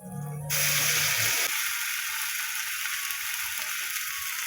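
Black cumin seeds and spices hitting hot oil, a sudden loud, steady sizzle that starts abruptly and holds, after a brief low rumble at the start.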